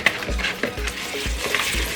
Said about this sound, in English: I can't whisk properly either